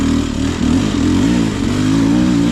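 Beta Xtrainer 2024 dirt bike engine lugging slowly up a hill in low gear, a steady loud near drone with low grunting pulses and a slight rise and fall in pitch throughout.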